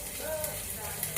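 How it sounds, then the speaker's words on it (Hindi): Potatoes frying in a pan, a steady close sizzle and crackle running throughout, with a voice faintly audible underneath. "जी आलू कर लिए अच्छे से फ्राई"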